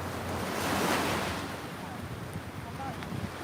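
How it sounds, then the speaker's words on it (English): Sea surf washing around someone wading on foot, a broad continuous rush of waves that swells early and then eases, mixed with gusty wind buffeting the microphone. "And now, I'm walking in the sea."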